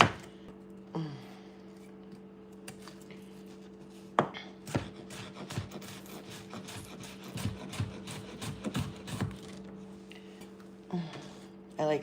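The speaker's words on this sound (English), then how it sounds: "I am chopping onion" Onions being chopped with a knife on a board in a home kitchen, a quick run of irregular, fairly faint taps over a steady background hum.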